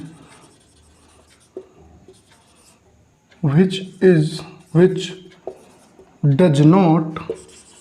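A marker scratching a definition onto a board in a physics class on units and measurement, faint strokes at first, then mostly covered by a teacher lecturing loudly nearby.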